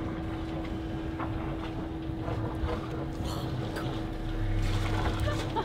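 Diesel engine of a Beneteau 46 sailboat motoring forward at low throttle, a steady low hum with water and wind noise around the hull, continuous throughout and rising slightly near the end.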